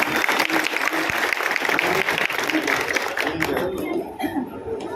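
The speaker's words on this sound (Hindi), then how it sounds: "जोरदार तालियों से स्वागत करते हैं हमारे लोकप्रिय नेता श्री संजीव जी बेनीवाल का।" A crowd at a local political campaign gathering applauds loudly to welcome a politician, a dense burst of clapping with some cheering and chatter that thins out toward the end.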